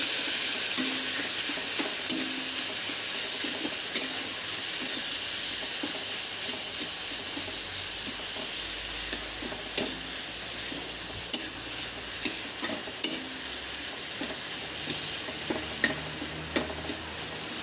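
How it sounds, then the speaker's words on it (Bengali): Boiled, mashed potatoes fry in a pan, giving a loud, continuous hissing sizzle close up, punctuated by scattered sharp clicks and scrapes of a spatula, with no talking. "এই যে সিদ্ধ করা আলুগুলোকে থেতলে নিলাম। এবার এইগুলোকে ভেজে নেব।"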